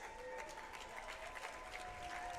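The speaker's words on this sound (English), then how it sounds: "let's give these two warriors one more round of applause." Applause from a crowd at a grappling match, steady and moderately distant, with a faint ringing tone running through it.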